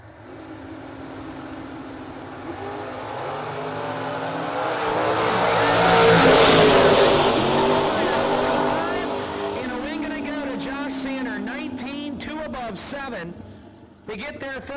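Drag race cars, including a Camaro, at a no-box drag racing event, launching with a rising engine roar that swells and fades, then gives way to a busy announcer voice talking over the track noise.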